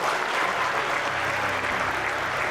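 Steady, full applause from an audience welcoming Bob Cryder to the St. Louis Sports Hall of Fame, a continuous wash of clapping throughout.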